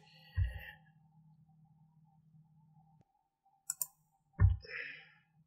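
Mouse clicks on a web page button while working in a WordPress hosting dashboard, a few sharp isolated clicks, close and fairly quiet, with faint background hum between them and no talking.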